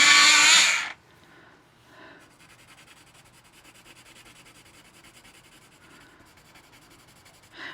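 A pale coloured pencil is sharpened: a loud, brief whirring burst lasting about a second, followed by faint, quiet scraping and rubbing sounds with a small burst at the end.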